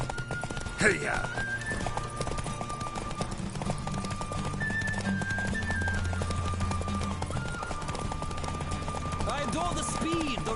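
Rapid clip-clop of a horse at full gallop in The Witcher 3: Wild Hunt, continuous under a musical score, with voices talking over it and a sharp louder hit early on.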